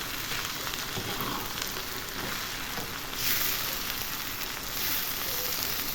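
Carrot and onion fry together in a pan, producing a loud, continuous close hiss of sizzling oil that swells slightly partway through.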